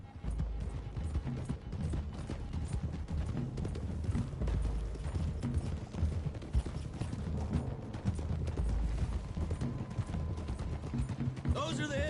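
Horses gallop across open country in Red Dead Redemption 2, their hooves clip-clopping in a steady, loud rhythm alongside rattling tack, with faint gunfire in the background.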